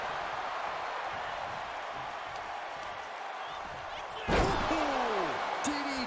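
A DDT slam in the WWE 2K24 wrestling game lands as a sharp, heavy thud on the mat, heard once over steady crowd noise while a commentator talks.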